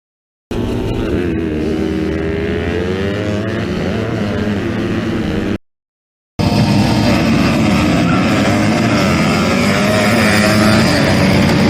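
Loud, steady drone of many dirt bike engines at a race start using launch control, heard from a spectator's position, with two continuous stretches split by a brief gap and no speech.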